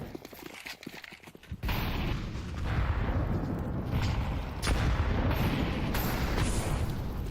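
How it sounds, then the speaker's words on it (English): Grenades going off in a Counter-Strike match, a sudden jump into dense, heavy rumbling blasts and booms that keep rolling in loud layered waves for several seconds. "Lots of nades going down."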